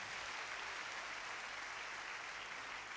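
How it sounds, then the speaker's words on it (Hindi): Steady, dense applause from an audience at a national prayer conference, a broad wash of clapping that holds evenly throughout without a break. "आइए जोरदार तालियां खुदावंद के जलाल के लिए बजाएंगे"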